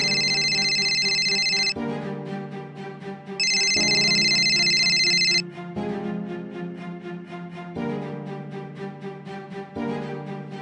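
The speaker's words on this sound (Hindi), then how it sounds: "अनीता राहुल का फोन नहीं उठाती" Electronic phone ringtone playing loud and alone, a repeating melodic tune in bursts of about two seconds with brief gaps between phrases.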